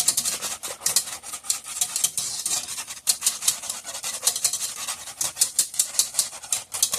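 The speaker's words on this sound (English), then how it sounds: "you can also feel the thickness as you're whisking, because your whisk gets harder to move around" A whisk scrapes and taps rhythmically through thickening strawberry frozen custard base of egg yolks, cream and milk, a steady close run of quick strokes with no talking.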